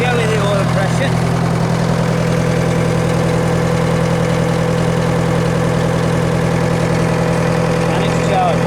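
A 1953 Nuffield tractor engine idles close by with a steady, even low rumble and throb that holds through the whole stretch.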